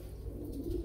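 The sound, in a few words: golden-eyed pigeon cooing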